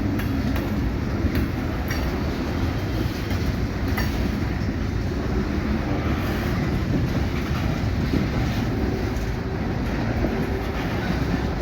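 Freight rail cars rolling past a rail-served soy meal loading site in Iowa or Nebraska, a loud, continuous rumble and wheel clatter close by that carries on steadily with no talk.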